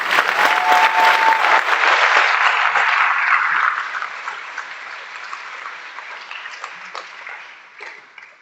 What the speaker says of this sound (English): How about one more round of applause for all of our award winners?